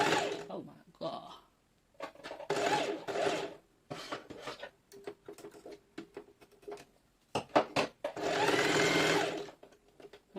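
A sewing machine runs in short and longer bursts while stitching a one-shoulder dress. Someone talks between and over the runs, and the final burst is loud and sustained.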